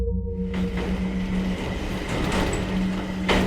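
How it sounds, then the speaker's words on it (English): A train rumbles in with a loud, steady roar and a low mechanical hum, growing noisier after a brief quiet start. "but the train was coming"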